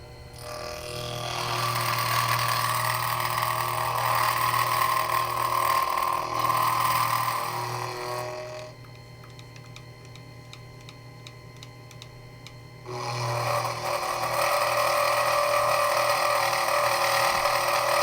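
Proxxon FF 230 milling machine surfacing the faces of two angle brackets held together in a vise: a steady whirring motor with cutting noise, a quieter clicking stretch in the middle, then cutting resumes.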